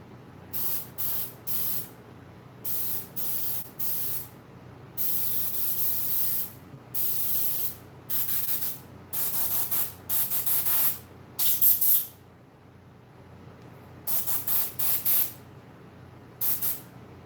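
An airbrush spraying paint onto mask fur gives close, steady hissing bursts, each lasting a second or two, repeated in an irregular on-off rhythm with quiet gaps between.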